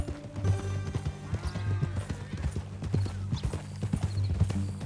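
Horse hooves clip-clop steadily in Red Dead Redemption 2 at a walking rhythm, close and moderately loud, with a low rumbling game soundtrack and occasional faint horse snorts.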